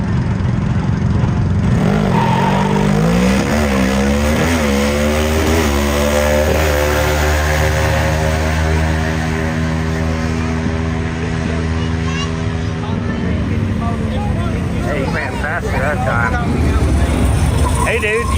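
A loud racing lawn mower with a Suzuki GS450 motorcycle engine revs up hard at a drag strip through rising pitches, shifting gears again and again as it races away, roaring steadily the whole time.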